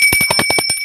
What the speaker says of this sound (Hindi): ये घंटी।